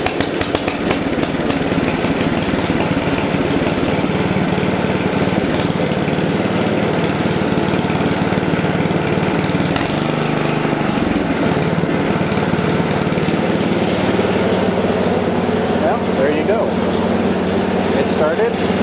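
An Ariens 24 inch Deluxe snow blower engine runs steadily at close range, with a constant loud droning chug and a brief dip in the middle, while someone talks over it.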